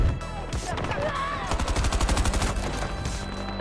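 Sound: turret gunfire in Battlefield 2042 video game

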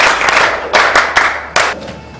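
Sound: round of applause

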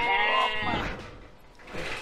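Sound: sheep bleating

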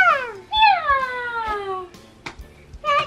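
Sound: child imitating a cat's meow

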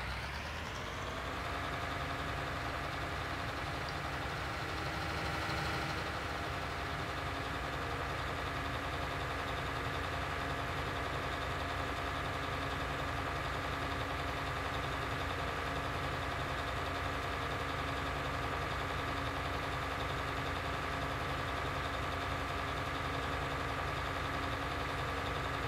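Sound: vehicle engine while driving in Farming Simulator video game

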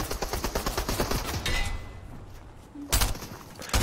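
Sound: SMG gunfire in Fortnite video game

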